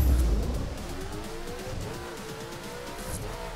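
A Ferrari 458 Speciale sports car is driven on a racing circuit. Its engine sounds somewhat distant, with a steady high-revving tone and a little tire noise. The level is moderate and no voices are heard.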